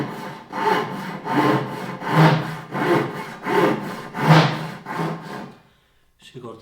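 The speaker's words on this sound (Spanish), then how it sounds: "Si cortamos así, que es en contra de los dientes de las sierras japonesas, de la geometría, lo que pasa es que se genera muchísima vibración" A Japanese pull saw cuts wood against the geometry of its teeth, giving about seven loud, rhythmic rasping strokes with a buzzing vibration, then a short pause and a faint knock.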